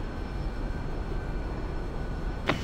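A plane in the X-Plane flight simulator rolls for takeoff on the runway, its engine a steady, even drone that holds throughout, with one brief crisp sound near the end.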